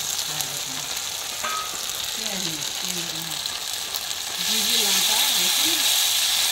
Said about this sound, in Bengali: ওগুলোকে ভালো করে কষিয়ে নেওয়া হবে।